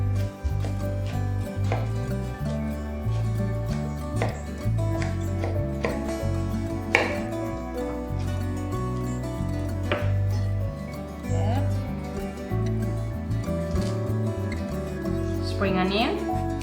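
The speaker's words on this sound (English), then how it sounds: "Then julienne it and then we will chop it up afterward." Knife chopping spring onion on a cutting board, a steady run of close, crisp taps on the board, with a person talking over the cutting now and then.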